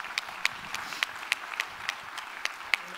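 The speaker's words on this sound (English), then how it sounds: "I think he needs an applause for being the first yes." A small conference audience at a business keynote claps sparsely, a thin scatter of distinct individual claps at an uneven pace rather than full applause.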